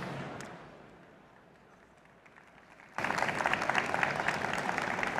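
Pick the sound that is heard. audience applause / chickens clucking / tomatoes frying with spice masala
audience applause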